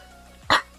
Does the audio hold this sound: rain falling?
no